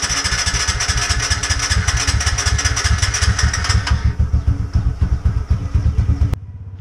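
A motorcycle engine idles and revs loudly up close as a ride begins, with a steady throbbing pulse that drops to a lower idle near the end before a sharp click and quieter running.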